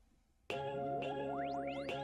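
A little bell in a song strikes three bright metallic dings with long ringing tails, set against synth tones sweeping upward.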